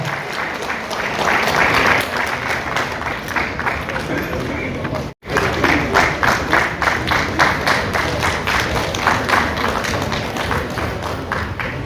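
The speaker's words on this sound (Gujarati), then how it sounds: "ભાઈ તાળીનો ગડગડાટ કરતા રહેજો" An audience at a charity show for the poor and needy claps steadily in a dense, continuous round of applause that cuts out briefly midway, then resumes at full strength.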